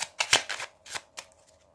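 Lenormand oracle cards are shuffled by hand in a quiet room, a series of about five quick, close riffling bursts with short pauses between them, fading at the end.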